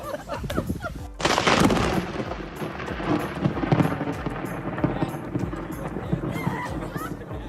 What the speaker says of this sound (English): this groom managed to get an incredible effect when a lightning hit right after he said 2020 has not been the best year